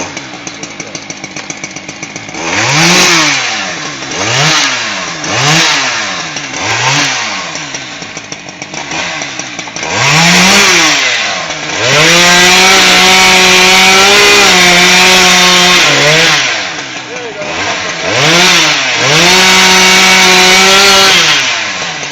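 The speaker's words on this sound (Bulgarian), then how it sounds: "Това е най-тежката резачка, да се съществува" A heavy, powerful chainsaw cutting wood on a work site, its engine revving in repeated rising bursts before a long sustained loud cut, then dropping and surging again, close and loud with no talk.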